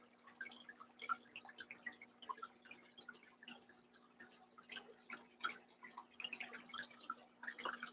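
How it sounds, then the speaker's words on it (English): Water from a hose trickles and splashes into a deep muddy hole beside rocks, a steady run of small close drips and gurgles with a faint hum underneath. "the water is just flowing in now"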